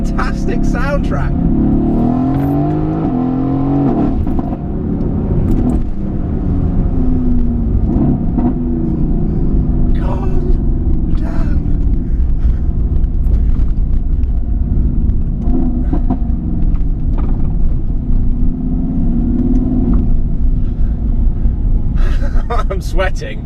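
A Mercedes-AMG car engine rumbles deep and loud throughout, revving and surging under acceleration, with sharp crackles and pops breaking through.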